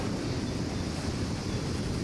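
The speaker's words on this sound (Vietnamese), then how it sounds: "Sóng gió trước cửa cảng rất là dữ bạn," Strong waves and gusting wind at a harbour mouth at Lagi, a dense, steady roar of surf and wind buffeting the microphone, with no voices.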